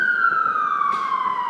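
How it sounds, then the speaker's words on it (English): An emergency vehicle siren wails steadily outside a classroom window as it passes, a loud continuous tone gliding slowly downward with faint road rumble beneath. "There have been so many sirens today"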